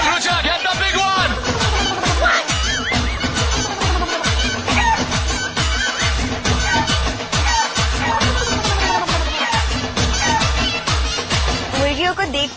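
Village chickens cluck and squawk loudly and continuously at close range during a reality-show challenge to catch them, with people shouting and talking over the flock throughout.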